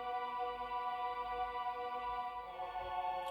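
A piano chord given a vintage tape character by Waves J37 processing rings on as a dense, sustained tone over a soft low rumble and hiss, steady throughout with no voices.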